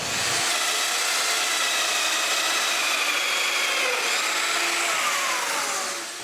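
A drill cuts mortises into cedar legs for a patio table, a loud continuous whirring grind with a rough, rasping edge, close and unbroken with no voices.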